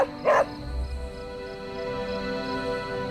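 A dog in Marvel's Midnight Sons, Charlie, gives a single short, loud bark near the start, followed by a low rumbling growl over a steady background hum.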